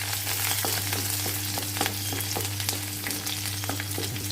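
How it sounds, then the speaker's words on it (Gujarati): Capsicum and green chili fry in oil, giving a dense close crackle with light stirring taps throughout over a steady low hum in the kitchen; nobody speaks. "આપણે એમાં કેપ્સિકમ અને લીલું મરચું એડ કરીશું અને ફ્રાય કરીશું।"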